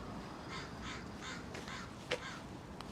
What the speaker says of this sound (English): There's a crow crowing.